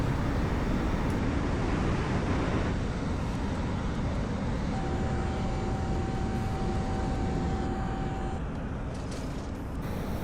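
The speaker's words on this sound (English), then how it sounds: "Taxi out onto the deck, get lined up, full power, and off you go." A jet aircraft at full power roaring off a carrier deck in the video game Nuclear Option, a loud, continuous broadband engine rush that holds steady throughout with no talking.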